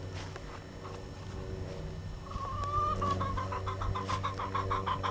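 A farm chicken, upset by a new fence, gives a rising drawn-out squawk that breaks into a rapid run of repeated clucks, close and fairly clear over a low background hum.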